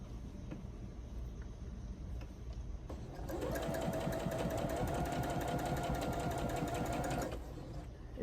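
A home sewing machine runs on its own during quilt work, starting abruptly and whirring in a steady, close, mechanical stitching rhythm for about four seconds before stopping, over a constant room hum.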